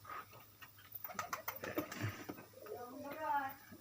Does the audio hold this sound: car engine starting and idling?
no